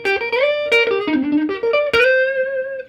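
A distorted electric guitar plays a quick major seventh arpeggio lick with sharp picked attacks, ending on a sustained, ringing note with reverb.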